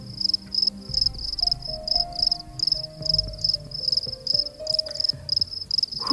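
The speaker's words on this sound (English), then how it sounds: "I think I'm going to put cricket sounds right here." A cricket chirping sound effect repeats in quick, evenly spaced, shrill pulses, loud and close, over faint low tones in the background.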